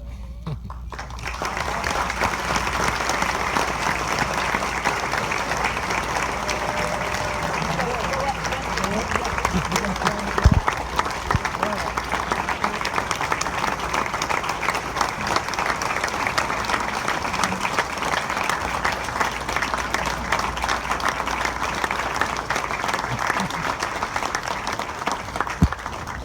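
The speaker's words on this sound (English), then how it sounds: "Thank you for your applause and your recognition." An audience at a legends recognition event applauds steadily for nearly half a minute, a continuous even wash of clapping from many hands with faint crowd murmur beneath.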